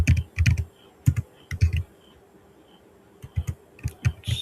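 Someone types code on a computer keyboard with irregular clusters of crisp key clicks and short pauses between bursts, quiet and close, with no talk.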